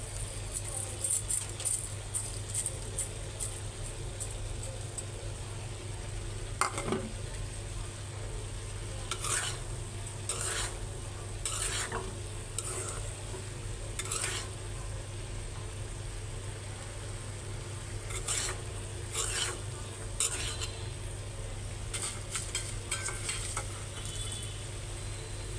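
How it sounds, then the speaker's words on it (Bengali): Chickpeas sizzle in a pan while being tempered, a soft continuous fry broken by repeated scraping, clinking stirs of a spoon against the metal pan. "বুটগুলি বাগার দিয়ে নেই, এই দিয়ে সন্ধ্যার নাস্তা।"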